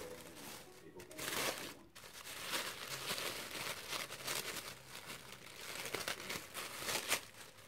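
Tissue paper crinkling and rustling continuously as a gift is unwrapped, close and busy with sharper tearing bursts throughout.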